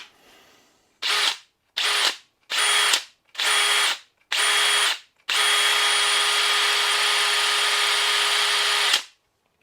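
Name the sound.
cordless drill running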